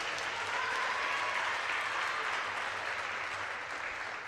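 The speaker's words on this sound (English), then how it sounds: "Let's have a big round of applause for Sienna Chadwick." Steady crowd applause at a high school girls volleyball senior night honoring a player, dense and continuous throughout without a break, moderately distant in a gym.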